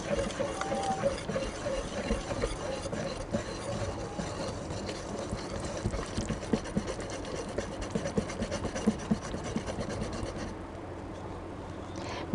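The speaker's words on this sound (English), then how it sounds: "I'm going to use my whisk and whisk that all together" A wire whisk scrapes and rubs steadily through a bread flour mixture in a bowl for focaccia, with dense continuous scratchy strokes at close range throughout.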